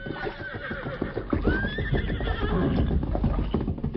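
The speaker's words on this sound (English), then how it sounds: "Listen, rider coming, Tonto." A horse approaching in an old radio drama of The Lone Ranger, 1944, with a loud, close whinny over steady clip-clop hoofbeats, the hooves continuing after the neigh, no talk over it.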